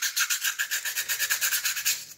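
Softer sandpaper rubs back and forth along the edge of an anodized black lightsaber hilt in quick, even strokes, about a dozen close raspy passes with no voices.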